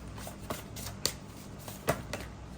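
Tarot cards are shuffled close by, with a few soft irregular riffles and slaps over quiet background.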